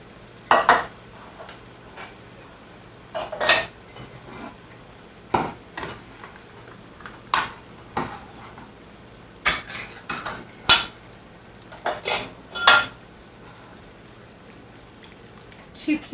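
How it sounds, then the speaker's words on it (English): Two cans of diced tomatoes going into a pot for a four-cheese baked pasta, a run of separate clanks, scrapes and spoon knocks against metal, fairly close, with quiet gaps between them. "I'm going to go ahead and add both cans of my diced tomato"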